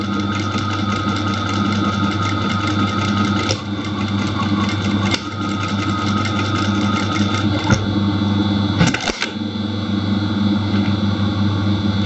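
An industrial sewing machine stitches fabric during a test run with a newly fitted needle and presser foot. It drones steadily and fairly loud throughout, with a few brief clicks and a short break near the end, and no talk.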